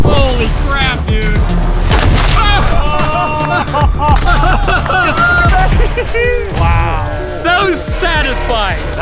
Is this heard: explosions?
yes